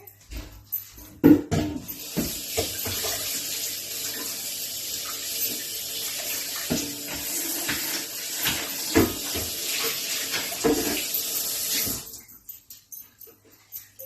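Apples rinsed under a running tap into a sink, a steady close hiss of water for about ten seconds with clatters and knocks from handling, then the flow stops.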